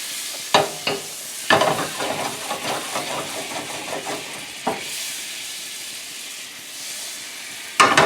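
Butter melting and sizzling in a hot pan as the base for a garlic sauce, with a steady frying hiss broken by a few stirring scrapes and clinks, close and alone without talk.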